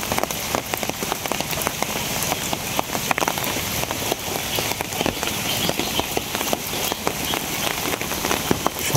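Steady rain falls outdoors, a dense continuous patter of drops hitting surfaces close by, with sharper individual drip ticks scattered throughout and no voices.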